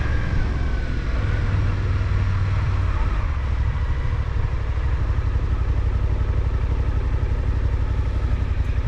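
A Suzuki V-Strom 800DE adventure motorcycle runs on the road with a loud, steady engine drone and a low rumble, mixed with wind rush throughout. A brief higher tone rises and then fades partway through.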